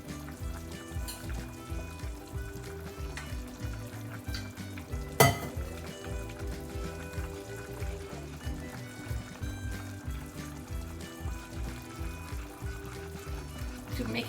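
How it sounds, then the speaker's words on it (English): Water is poured and stirred into microwaved flour in a small bowl to form a paste: soft wet sloshing and scraping, quiet and continuous with gentle clinks, and one sharp tap midway. "So now I'm going to add like a little bit of water to make it into a"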